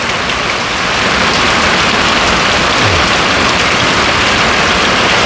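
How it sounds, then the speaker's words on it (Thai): Heavy morning rain pours down in a constant loud hiss, drumming on surfaces close by, with a faint engine idling low underneath and no voices. "ฝนตกแต่เช้าเด้"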